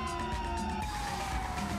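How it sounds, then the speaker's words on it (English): Police car siren in GTA 5 roleplay, a wailing tone sweeping steadily downward, loud and close over a low engine rumble, with no talk. "My sirens are on"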